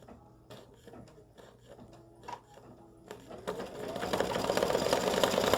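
An embroidery machine stitching a design onto card stock, starting with scattered clicks and short mechanical bursts, then settling into a loud, steady rapid whirring run that builds toward the end.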